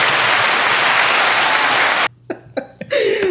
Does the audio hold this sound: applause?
yes